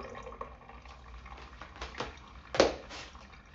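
Something rinsed under a running kitchen tap, giving faint, uneven splashing and trickling water with a brief louder splash near the end.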